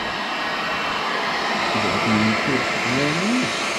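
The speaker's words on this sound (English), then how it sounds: "2, heat gun." A heat gun blows a steady, loud whooshing roar while heating a seized aluminium seatpost in a steel bicycle frame, with a voice speaking faintly beneath it toward the end.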